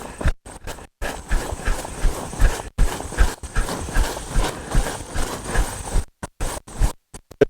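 A horse's hooves clip-clop in a steady walking rhythm close by in a large open area, each footfall a distinct thud, with some clattering noise around them.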